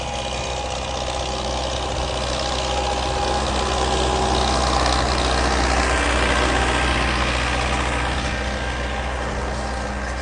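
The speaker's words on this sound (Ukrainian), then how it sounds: "Це звичайний культиватор, старенький мій, саме з перших." An old motor cultivator engine runs continuously, a loud, steady mechanical drone with rough low rumble and no pauses, heard up close outdoors.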